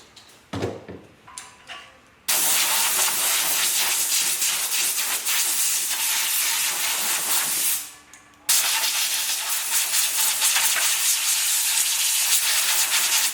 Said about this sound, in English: not a perfect seal on my air compressor, a little Arbor Freight one, but gets the job done